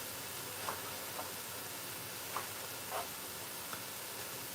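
Onion and carrot mixture for shrimp fried rice hisses quietly in a hot pan, a steady soft sizzle broken by a few faint clicks of stirring.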